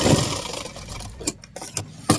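A sewing machine stitching a pocket onto trousers hums along steadily at close range, then breaks into a few short stop-start bursts of stitching.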